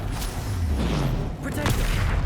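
Incendio and Confringo spells are cast during a troll fight in Hogwarts Legacy, producing loud, continuous fiery bursts and booming blasts, with voices shouting over the din.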